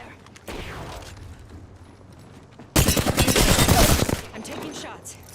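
Rapid gunfire in a battle-royale video game, a dense burst of shots erupting suddenly midway and lasting over a second, loud and close, after a quieter stretch of game ambience.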